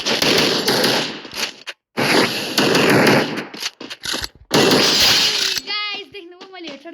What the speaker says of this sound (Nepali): गाइज देख्नुभयो मैले हेडसट हानेको